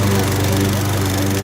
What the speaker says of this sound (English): This lawnmower has made my life so much easier.